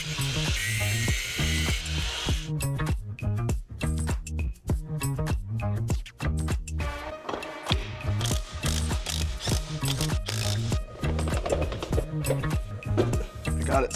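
A ratchet fitted with a crow's foot on an extension tightens lug nuts on a cabin vehicle's tracks, giving rapid, loud mechanical clicking in continuous bursts, close up and alone.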